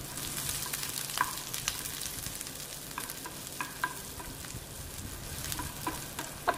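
Shallots, ginger and garlic sautéing in a pan, a steady close sizzle with frequent light clicks and scrapes of stirring throughout, no talking.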